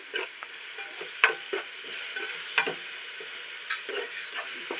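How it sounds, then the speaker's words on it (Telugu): Ginger garlic paste is stirred into onions frying in a pan, a continuous sizzle broken by repeated scraping spoon strokes at an irregular rhythm. "అల్లం వెల్లుల్లి పేస్ట్ వేసుకున్నానండి. వేసుకొని ఇది ఇలా కలుపుకుంటున్నానండి."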